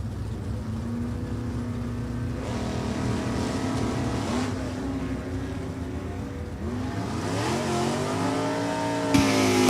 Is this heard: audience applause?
no